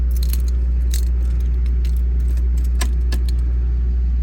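Original metal keys of a 1975 Plymouth Duster jangling close by in repeated bright clinks and rattles, over a steady low hum inside the car.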